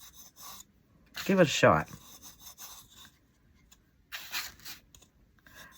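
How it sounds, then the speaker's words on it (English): Short rubbing and rasping strokes on a dried rustic primitive wooden craft bell as finish is worked in by hand, two brief close bursts separated by quiet, with a person speaking briefly in between. "We'll rub something into it, maybe."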